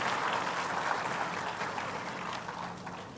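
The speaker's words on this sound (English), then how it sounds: "A huge round of applause to Shri Tejasvi sir also for moderating actively." Applause at a formal event with the Minister for Women & Child Development: steady, moderately distant clapping from an audience, continuous and even throughout and fading slightly toward the end.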